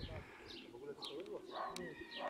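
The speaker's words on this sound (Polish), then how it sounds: "Tych gołębi przychodzi coraz więcej." Racing pigeons cooing and calling at a loft as they arrive, with a few chirps mixed in. The birds sound close, and people talk in the background.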